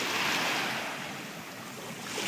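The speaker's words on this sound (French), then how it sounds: "Vous pouvez voir qu'il y a des vagues." Steady broadband rush of ocean waves washing onto a beach, continuous and fairly loud with a slight swell at the start and end, with some wind noise and no voices.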